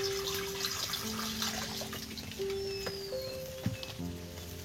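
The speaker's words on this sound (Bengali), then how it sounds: "কড়ার মধ্যে এই যে জল দিয়ে দিচ্ছি" Water pours steadily into a wok at close range while cooking khichdi, a continuous rushing, splashing stream that shifts slightly in tone as the level rises.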